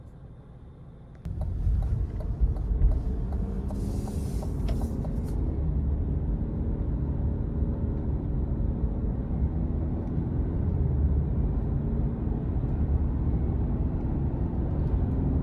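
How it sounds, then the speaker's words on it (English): A 2023 Cadillac CT5 Sport with a 2.0-litre turbocharged engine driving on the road, a steady low engine and road rumble heard from inside the cabin that holds constant throughout, with no talking. "take this 2023 CT5 Sport out on the road for a quick test drive"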